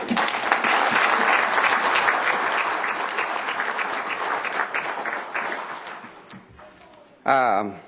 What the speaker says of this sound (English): Let's give them a big round.